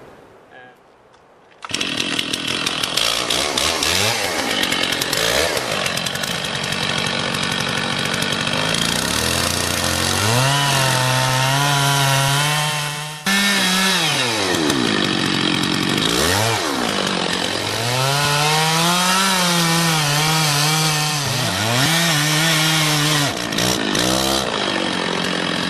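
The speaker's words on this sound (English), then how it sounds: "the first stage of cutting the tree down is to do a V-cut" A chainsaw cuts a V-shaped notch into a large Douglas fir tree, starting after a brief quiet moment and then roaring loud and close, its engine pitch rising and dropping as it bogs into the wood and revs again.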